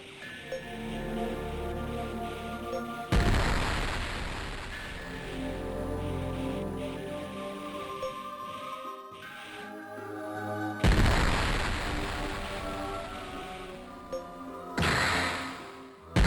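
Spaceship barrage fire in the Nintendo DS game Infinite Space: two loud booming volleys some seconds apart, a shorter third burst near the end, over steady electronic game music.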